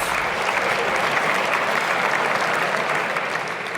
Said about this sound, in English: Ladies and gentlemen, please put your hands together for the Telstra Rising Stars of season 2025.